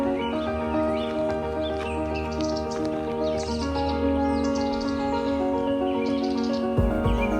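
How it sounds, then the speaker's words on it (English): Birds chirp and sing in a secluded wooded glen near an old wooden bridge, a layered chorus of tweets over a steady tonal background, with occasional horse-like sounds mixed in. "Birds are singing."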